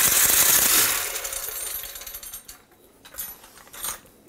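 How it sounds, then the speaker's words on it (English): A paint roller spinner's whirring, rattling spin starts loud and gradually winds down, leaving scattered clicks and faint mechanical rattles at the end. "So this is a paint spinner, and basically the idea is to stick your roller on there."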